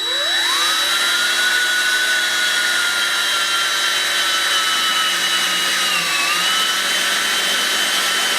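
A power drill bores a hole through wood during a farmhouse restoration in Spain, giving a steady, loud whine that rises in pitch at the start and holds for several seconds.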